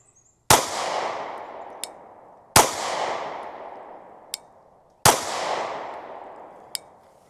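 Derya DY9Z pistol firing three loud, sharp shots about two seconds apart, each with a decaying echo and a small metallic clink after it, no talk.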